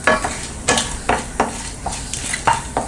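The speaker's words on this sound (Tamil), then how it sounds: "பிரிஞ்சி இலை, லவங்கம், ஏலக்காய், தனியா, சீரகம், இதை வந்து நல்லா நம்ம ஃப்ரை பண்ணிக்கலாம்." Whole spices (bay leaf, cloves, cardamom, coriander seeds and cumin) fry in hot oil for paneer butter masala, with a spoon scraping the pan in a steady rhythm of close, crisp strokes over a soft sizzle.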